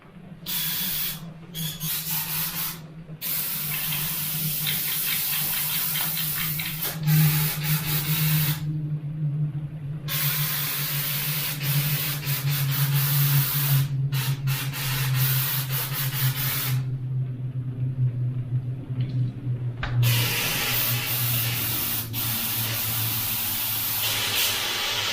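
An airbrush blasts cleaner through its nozzle in long, loud hissing sprays, broken by a few short pauses, with no talking.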